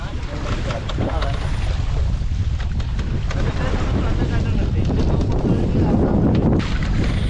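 Strong wind buffets the microphone during bamboo rafting at Parambikulam Tiger Reserve, with stormy weather around; a loud, continuous rushing roar mixed with water movement persists throughout.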